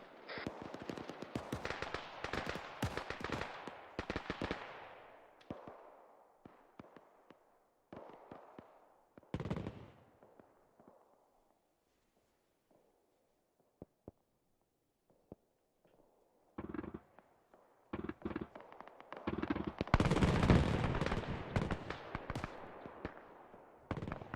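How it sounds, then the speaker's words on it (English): Several grenade and gunfire blasts in a WWII shooter set around Tobruk, dense bursts early, a quieter stretch, then a loud heavy explosion near the end. "I think I just got grenaded"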